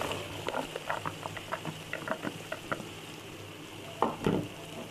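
Okra is stirred into a sizzling tomato masala for bhindi, with a run of soft rhythmic scraping strokes over a gentle frying hiss and a louder pair of scrapes near the end.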